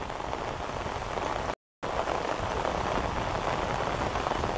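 Heavy monsoon rain pours steadily in a farming area near the Sutlej river, a dense, even hiss of drops hitting surfaces, with a brief break partway through.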